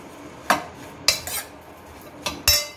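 A spoon mixing okra in a bowl, several sharp clinks of metal against the dish spaced irregularly, close and fairly quiet with little else around.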